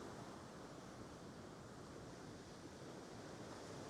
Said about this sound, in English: Some of these waves are pretty big